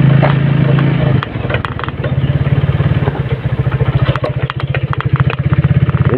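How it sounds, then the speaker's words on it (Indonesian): A motorcycle engine putters steadily while riding through the city streets of Semarang, Indonesia, in the morning, close and loud, its idle-like beat continuous throughout with faint traffic clatter around it. "Kembali saya nongkrong di atas motor menyusuri jalan-jalan Kota Semarang."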